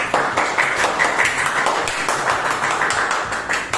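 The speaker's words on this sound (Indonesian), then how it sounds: "Tepuk tangan lagi untuk kelompok 3" A classroom of students claps for a presenting group, a loud, steady, slightly uneven patter of many hands filling the room without pause.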